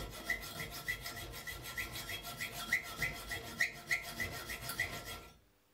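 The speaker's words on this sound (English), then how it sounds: "You can cut the iron bars by using an angle joint as guide for the saw." A hand saw cutting iron bars guided along an angle iron, steady back-and-forth rasping strokes in a regular rhythm with faint metallic squeals, close and moderately loud before stopping abruptly.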